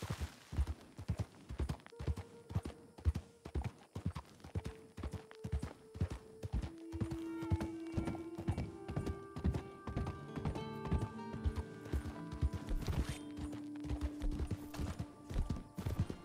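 Horse hooves clip-clop in the Red Dead Online video game, a steady, evenly paced trot of sharp hoof strikes continuing throughout, with sustained musical tones underneath.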